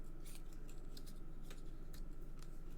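Scissors snip a paper birthday card cut-out shaped like a turtle's paw, several short crisp cuts in quick succession, close and clear over a steady low hum.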